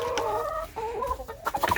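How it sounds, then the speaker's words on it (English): A featherless chicken clucks close by in a quick, uneven series of calls that grow choppier toward the end, with no talk over it. "touch that chicken with no feathers"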